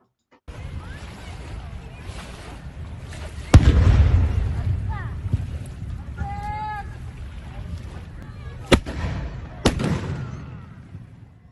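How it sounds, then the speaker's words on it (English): A black powder cannon at Yorktown, primed with powder at the touch hole and fired with a linstock, gives one loud outdoor boom followed by a rumbling tail, over steady wind and background noise, with a few sharp later cracks. "it's powder on the cannon, on the touch hole of the cannon, and I'm using the linstock to fire it"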